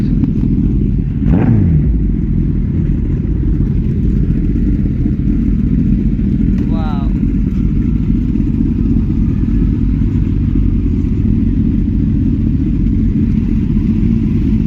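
Superbikes such as a Kawasaki Z900, ZX10R and a BMW at a Sunday ride meetup: a loud, continuous deep engine rumble with revving and idling throughout, close by, dense and unbroken with no voices.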